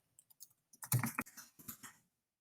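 Fingers type on a computer keyboard with a brief burst of close, soft clicks, first sparse, then quicker, before stopping.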